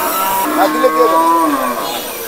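A cow moos loudly in a long, wavering low call at the Lauhati cattle market in Bangladesh, with a second bellow following, over steady crowd background noise.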